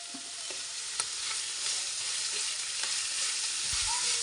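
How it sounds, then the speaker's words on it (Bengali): Chopped onion and garlic fry in a pan while being stirred, giving a steady close sizzle broken by soft scraping strokes, with no one talking. "পেঁয়াজ আর রসুন দেওয়ার পরে কিছুক্ষণ বেজে নিয়ে লাল করে নিচ্ছি"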